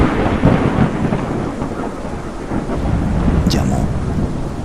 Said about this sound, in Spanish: el sonido de la lluvia golpeando las hojas